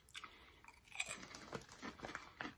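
Crunchy white cheddar puffed corn snacks being bitten and chewed close up, a quick run of crisp crunches at a steady chewing rhythm with no talk.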